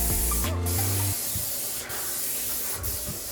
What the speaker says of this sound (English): Yeah, we're gonna spray this area here.